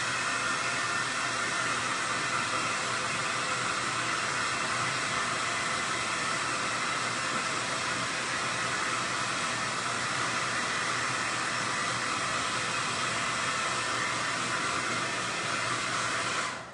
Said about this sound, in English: I'm gonna hit it with the blow dryer real quick.